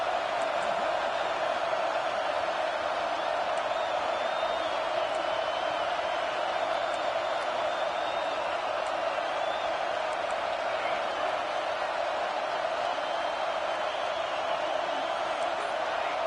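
A stadium crowd roars steadily in the NCAA 26 college football game BYU versus Nebraska, a constant wash of cheering energy on a big third down, heard at a distance without distinct peaks.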